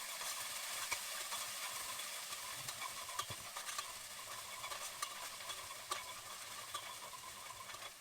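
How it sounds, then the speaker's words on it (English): Garlic and ginger sauté in a pan with seasoned pepper while being stirred, giving a steady close sizzle with scattered scraping ticks throughout and no talking. "I'm going to continually stir this because I don't want the garlic and ginger to burn"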